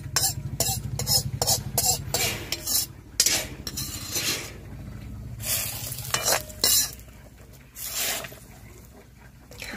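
Tempering spices for mango dal sizzle in oil in a wok, a steady frying hiss broken by repeated scraping stirs of a metal spatula, loud and close.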